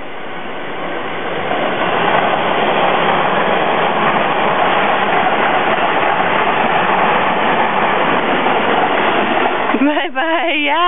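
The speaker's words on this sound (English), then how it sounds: "Oh, and here comes the train." A train rolls past nearby, its steady rumble and clatter filling the air at full loudness for several seconds before a voice begins talking as it fades.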